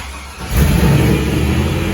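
A 1984 Jeep CJ7 fitted with a 5.3L LS V8 cranks and catches, settling into a loud, steady idle after a brief starter whir.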